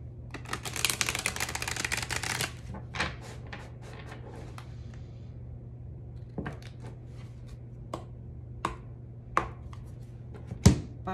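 Tarot cards shuffled close by during a reading: a dense burst of rapid riffling for the first couple of seconds, then scattered sharp card taps and flicks over a low steady hum.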